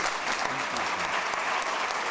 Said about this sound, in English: if we can please give them a round of applause